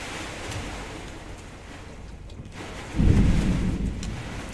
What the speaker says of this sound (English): Dude, this rain is for real.